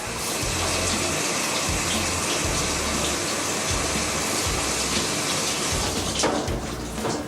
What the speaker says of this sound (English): A handheld shower. I guess I should wait for this to fill up.